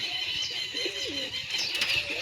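White pigeon chicks and adult pigeons coo close by in soft throaty rolling calls over a faint steady background hum.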